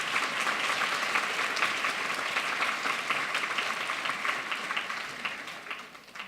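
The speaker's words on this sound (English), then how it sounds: "Let's applaud all of those sponsors." A luncheon audience at an awards event applauds its sponsors, giving dense, sustained clapping from many hands across a large room that fades slightly toward the end, with no voices.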